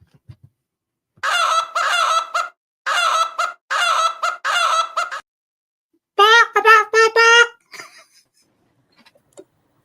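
A person loudly imitates a chicken clucking as the result of a bet, in several rhythmic bursts of nasal honking clucks, ending in a higher drawn-out squawk, with brief faint sounds after.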